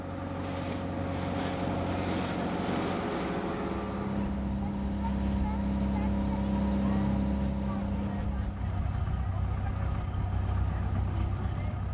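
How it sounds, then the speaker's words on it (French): Powerful motorboats cross a 50 km strait off Musandam, Oman, their engines a steady, loud drone that holds for the whole stretch amid wind buffeting, with faint voices in the background. "qui ont traversé les 50 km du détroit avec leurs puissants canots à moteur"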